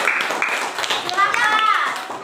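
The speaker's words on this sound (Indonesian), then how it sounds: "Boleh tepuk tangan." Children clap their hands in a classroom, a quick burst of light, uneven claps mixed with lively voices talking over them.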